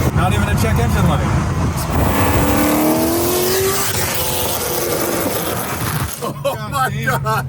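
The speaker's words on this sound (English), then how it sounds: "That's what that thing sounds like from the outside on the street. It's so loud." A Nissan Skyline R32 with a loud factory exhaust rips past on the street, engine note climbing and rasping through the gears, then fading as voices come in at the end.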